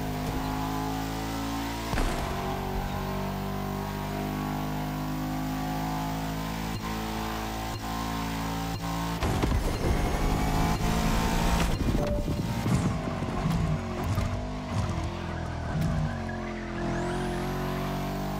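A supercar engine in The Crew Motorfest revs hard and holds a loud sustained drone, with gear shifts, a surge of roaring acceleration and skidding near the middle, then settles back to a steady high whine.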